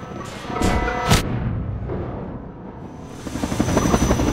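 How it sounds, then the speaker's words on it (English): A helicopter in the video game Half-Life 2: Episode Two thumps loudly overhead with rotor beats and rumbling, joined by heavy thuds and booms as it closes in. "Since you brought that chopper in on your tail, you want to maybe help us take it down?"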